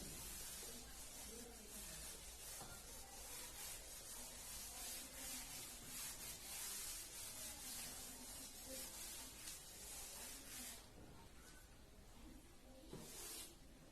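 Rubbing out writing on a board during a trigonometry lesson, a steady broadband scrubbing that runs continuously and fairly loud for most of the stretch, easing slightly near the end.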